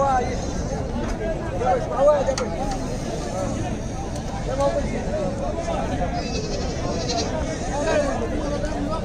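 Goats bleat at a busy goat market, several calls rising from the crowd as constant loud babble and nearby talking dominate.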